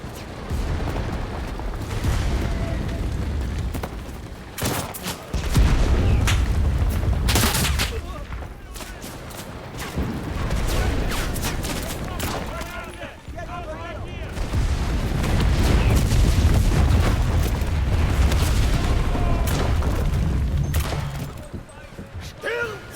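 A rumbling artillery barrage in the World War II shooter Enlisted, dense booms and blasts layered with rifle and machine-gun fire, building in waves, with voices shouting over the battle.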